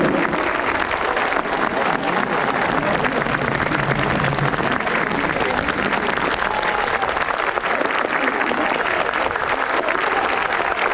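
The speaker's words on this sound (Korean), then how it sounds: "여러분의 힘찬 박수를 30초간 부탁드립니" Sustained applause from a large stadium crowd at a 2019 K League 1 Final A football match between Ulsan Hyundai and Jeonbuk Hyundai, a dense, loud, even roar of clapping that continues without a break.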